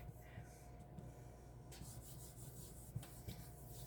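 Loose powder being rubbed off a piece of polymer clay by hand, a faint close scratchy rubbing that continues throughout with a couple of small taps, quiet and without speech.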